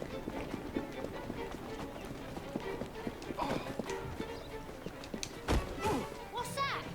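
Horse-drawn carriage in Assassin's Creed Syndicate, with steady galloping hoof clip-clop and rolling thumps close by, an occasional whinny, and game noise and talk over it.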